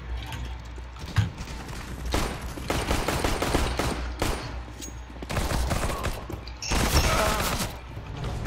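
Dense, rapid gunfire from the video game CS:GO fills the whole stretch: continuous automatic bursts and sharp shots, loud and close, with no talking.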